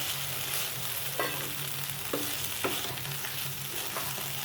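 Raw banana bhaji with freshly grated coconut and coriander is stirred in a pan, with a soft sizzle under repeated scraping strokes, close and without speech.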